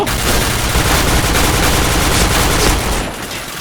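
Dense, sustained video-game gunfire from a lone player mowing down twenty-plus enemies, a loud continuous fusillade of overlapping automatic shots that eases off near the end.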